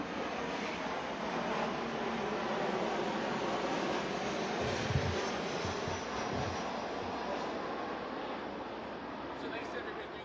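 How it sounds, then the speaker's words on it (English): An airplane passing overhead outside a news conference, a low, steady engine drone at moderate distance with a faint swell in the middle, and people talking quietly under it. "I can't do anything about the airplane."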